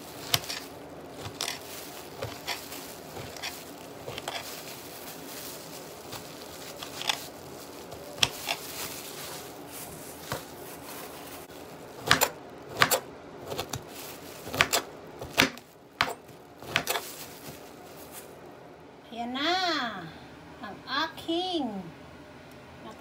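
Knife chopping kamansi (breadnut) in a home kitchen, a close scatter of irregular thuds and cuts that gets busier partway through, with a voice and adult talk coming in now and then.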